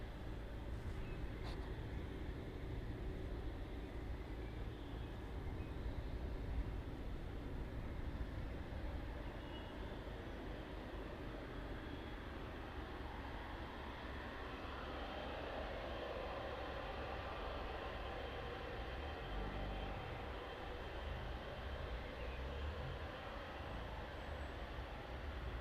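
Aircraft departing East Midlands Airport, a distant, steady jet roar that holds at a low, even level throughout, with no close passes or sharp peaks.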